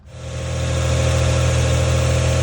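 A 1996 Toyota Avalon engine catches and settles into a steady, loud idle, with a low, even rumble that swells over the first half second and then holds constant.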